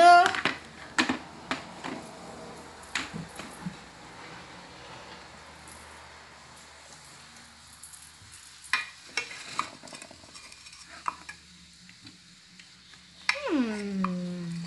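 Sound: stirring pastina in a pot

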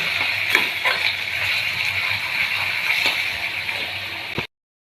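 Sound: potatoes frying in oil

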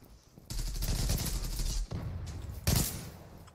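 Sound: gunfire shooting through glass in video game Zula

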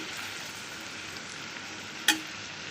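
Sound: ginger garlic paste frying in oil with onions and carrots

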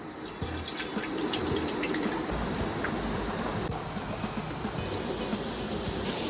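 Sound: potatoes with Cajun seasoning frying in oil

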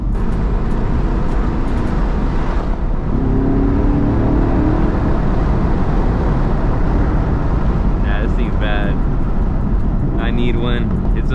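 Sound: Chevrolet Camaro SS 1LE engine revving with rev match

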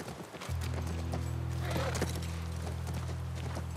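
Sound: horse hooves clip-clopping in The Last of Us Part I video game

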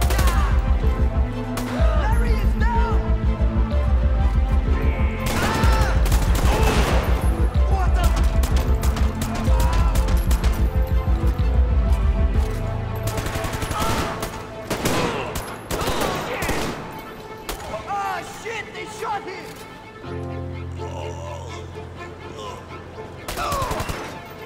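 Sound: gunfire in the video game GTA 5

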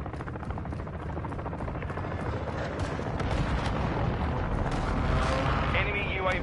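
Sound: precision airstrike explosions in a video game

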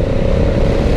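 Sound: motorcycle throttle blip while riding

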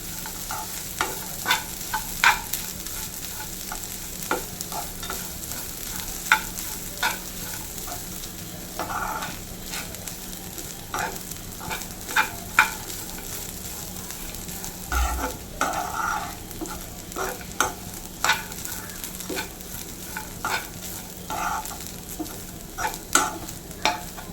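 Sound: grated coconut frying and being stirred in a pan

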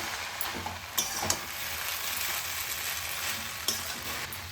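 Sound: stirring vegetable chow mein in a frying pan

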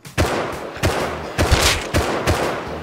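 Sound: gunshots in the video game Rust

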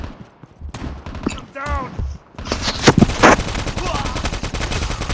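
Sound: automatic gunfire in Call of Duty Mobile video game

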